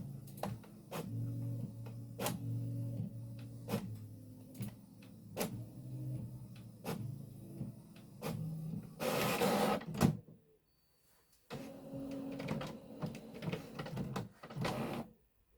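An HP inkjet printer prints output from a ZX Spectrum Next, giving repeated mechanical ticks and low whirring passes of the print head, a brief louder feed burst, a short pause, then more carriage movement.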